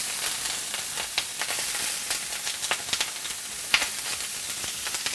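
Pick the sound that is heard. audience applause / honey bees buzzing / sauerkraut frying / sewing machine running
sauerkraut frying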